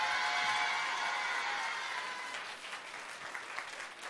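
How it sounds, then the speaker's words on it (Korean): Warm applause from a high school audience at a youth humanities concert in Korea, strong and dense at first, then thinning to scattered claps over about four seconds. "박수 부탁드리겠습니다."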